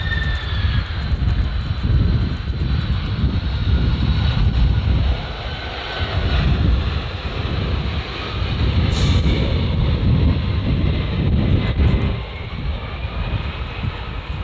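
Jet airplanes landing close to an airport make a loud, continuous engine roar that rises and falls in waves across the whole stretch, with no talking over it.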